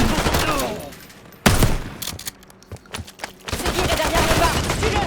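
Shotgun blasts in the Call of Duty Black Ops 6 campaign, loud close booms amid a chaotic firefight with scattered gunfire, rumbling action noise and faint shouting voices.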